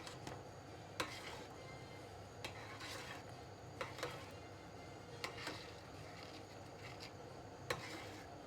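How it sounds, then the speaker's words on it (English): A spoon stirs carrot soup with orange and ginger in a pot, giving faint scraping and occasional light metallic clinks against the pot over a low steady background, with no talking. "Just get a good old stir in."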